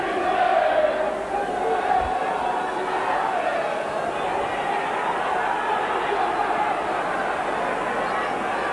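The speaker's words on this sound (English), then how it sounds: "Resounding boos from the St Helens crowd against referee Mr Smith, but it doesn't alter the scoreline." A large rugby league crowd at St Helens roars steadily with loud, continuous booing aimed at the referee, a dense sustained wall of voices throughout.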